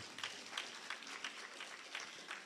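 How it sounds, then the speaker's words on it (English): Seminar audience applauding a speaker at an economic empowerment event: a steady, faint wash of many hands clapping at a distance, with soft pulsing bursts throughout and no voices on top. "Come on, give him a round of applause."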